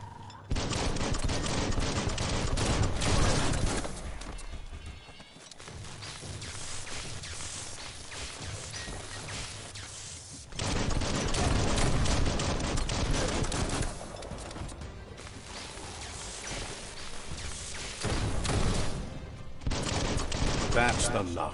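Shotgun and other gunfire ring out in Biomutant, with dense bursts of shots in several long stretches separated by brief lulls, loud and close, while a voice talks over parts of it.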